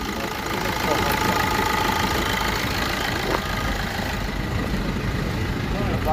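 At a car market, a 2006 Opel with a 1.3 diesel engine and manual gearbox idles with a steady, rough mid-range rumble, close and constant, while people talk nearby.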